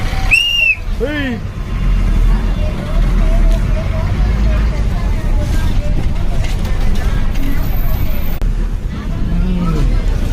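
Bus travelling along a road in the morning, with steady engine and road rumble, chatter from passengers, a few short whistles near the start and occasional rattles.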